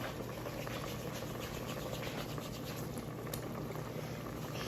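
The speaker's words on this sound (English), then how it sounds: "I'm just gonna add a bit more water to all of that to get the flour and everything boiling" A pot of water with flour bubbles steadily at a rolling boil, a dense continuous hiss and patter, fairly quiet and close, with no voices.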